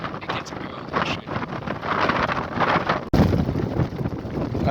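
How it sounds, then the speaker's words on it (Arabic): Strong wind roars across a hilltop at Ghougine above Tangier, buffeting the microphone in a steady, heavy rush with gusty swells and one sudden jolt partway through. "الريح بزاف"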